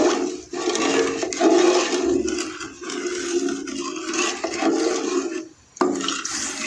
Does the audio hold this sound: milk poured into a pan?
yes